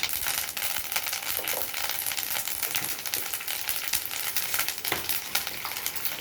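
Curry leaf paste frying in oil, a dense continuous sizzle with faint stirring scrapes, close and steady for the whole stretch with no voices.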